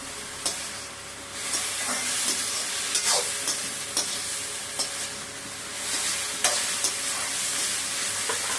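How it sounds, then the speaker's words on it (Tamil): Ivy gourd sautéing in a pan for a green chutney, a steady close sizzle with repeated scraping stirs roughly every second, with no voices. "இது கொஞ்ச நேரம் ஒரு பத்து நிமிஷம் வந்து நல்லா வதக்குனாதான் அந்த பச்சை வாடெல்லாம் போயிடும் இந்த மாதிரி"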